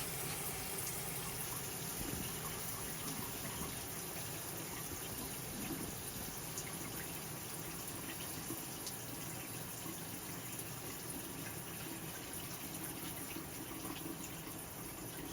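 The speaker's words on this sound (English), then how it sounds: "Now I'm going to open hot water here." Hot water gushes steadily from a tap fed by a Rheem tankless water heater, a constant loud rushing hiss that holds unbroken for the whole stretch with no voices over it.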